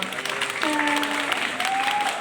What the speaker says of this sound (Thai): ขอเสียงปรบมือกับบีมบรนันครับ